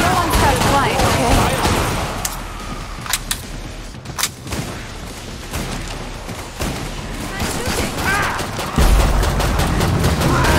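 Gunfire in the video game Killing Floor 2: repeated sharp shots and short bursts fire through a dense, busy game mix, with a person talking over much of the action.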